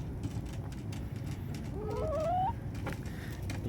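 Chickens, with a rooster among them, cluck and call in the morning, one rising cackle standing out briefly over low, steady outdoor background noise, fairly faint overall.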